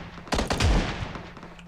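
A short, sharp volley of gunfire rings out in the PUBG Mobile battle royale game, several close, punchy shots in quick succession before fading into a brief echoing tail.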